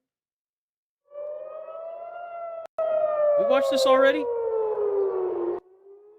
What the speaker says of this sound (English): siren sounding over Jerusalem earlier, sending people running for shelter